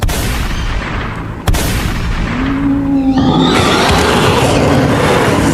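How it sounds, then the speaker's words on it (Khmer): Gunshot sound effect of a gun fired at a forest ghost in a 3D horror tale: a sharp crack near the start, a second blast, then a long booming, rumbling tail with a rising whine. "លើកកំភ្លើងកេះកៃតម្រង់បាញ់ទៅកាន់ខ្មោចព្រៃនោះទៅ"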